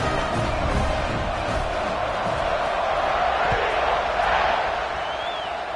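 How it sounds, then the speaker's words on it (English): A large football stadium crowd keeps up a steady, dense roar after a score, a broad rumbling wash of voices with a faint whistle near the end. "this crowd is buzzing after that last score"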